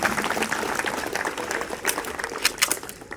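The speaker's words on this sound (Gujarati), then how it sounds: "ત્રણેય જવાનો માટે જોરદાર તાળીઓ થઈ જાય" A crowd at an Independence Day celebration of an SRP police group in Nadiad applauds the jawans with brisk, uneven clapping and a few louder bursts of claps near the end.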